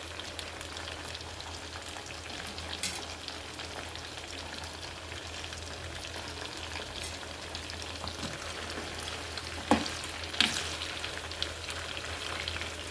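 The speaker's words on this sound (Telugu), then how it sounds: "ఈ ముక్కలన్నీ బాగా వేయించుకోవాలి." Chicken pieces for chicken avakaya fry in oil with a steady, rain-like sizzle and hiss throughout, a low hum beneath, and a couple of sharper clinks or stirs near the end; no voices.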